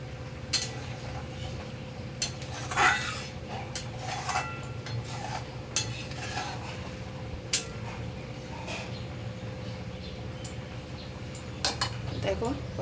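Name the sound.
stirring milk into prawn malai curry in a pan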